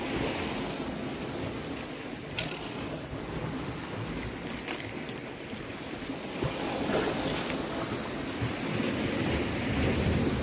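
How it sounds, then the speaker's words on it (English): Ocean waves surge and wash against rocks along a rocky shore in a steady, close roar, with gusts of wind buffeting and swelling surf toward the end. "Every now and then you get a bigger wave, so I'm trying to stay well back."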